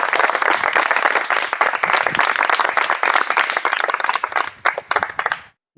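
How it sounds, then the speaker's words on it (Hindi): Loud, dense applause from a crowd, steady clapping that continues for several seconds before fading with a few last claps and stopping. "एक बार जोरदार तालियां हो जाए।"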